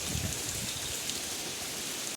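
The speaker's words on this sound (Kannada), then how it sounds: "ಮಳೆ ಬರ್ತಾ ಉಂಟು, ಅಲ್ಲಿ ನೋಡಿ ತುಂಬ" Heavy rain pours down in a steady, dense hiss under gusting wind, constant and fairly close, without voices, then cuts off abruptly at the end.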